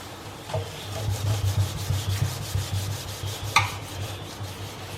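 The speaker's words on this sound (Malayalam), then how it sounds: "ഇതേപോലെ ഒന്ന് ഉരയ്ക്കുക." A kitchen sink being scrubbed during cleaning, soft repetitive rubbing strokes at a steady rhythm, fairly quiet and close, with a brief sharper scrape near the end.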